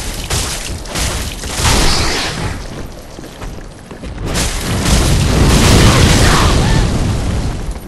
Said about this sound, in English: And he breathes fire.